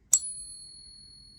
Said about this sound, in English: There's nothing like the ring of a real Morgan dollar